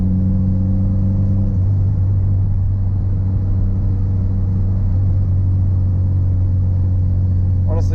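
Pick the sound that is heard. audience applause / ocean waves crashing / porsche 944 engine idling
porsche 944 engine idling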